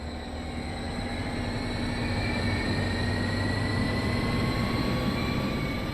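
Steady rumbling ride inside a double-deck gallery passenger car on a southbound San Francisco Bay Area service in Train Sim World 2, with a constant low drone and faint high tones throughout, no talking.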